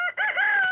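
A single rooster crows close by, one loud, clear, drawn-out call with no voices around it.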